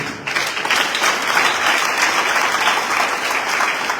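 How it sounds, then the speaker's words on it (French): A church congregation at an evangelical service applauds together in a dense, steady roar of many hands clapping, sustained at an even, fairly loud level throughout with no speech over it. "qu'on veut applaudir pour ça"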